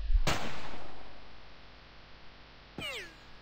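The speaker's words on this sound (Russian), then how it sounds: "Все-таки будем стрелять с прицелом." A single aimed gunshot in the tactical game Jagged Alliance 2, a sharp loud crack with a ringing tail, followed later by a short whooshing sweep.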